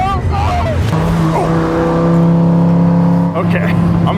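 A Dodge Viper is driven hard, its engine note rising and falling with gear changes and a sustained high-revving drone, loud and close, with voices talking over it.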